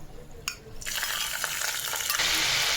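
Ginger and garlic hitting hot oil already seasoned with whole garam masala, bay leaf and cumin: a sharp click, then a loud, steady sizzle that swells and stays strong to the end.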